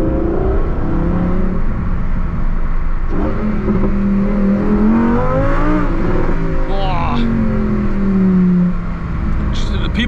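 A Lamborghini Huracan STO engine in Trofeo mode roars loudly from inside the car, rising and falling through revs and gear changes, with a voice talking over it.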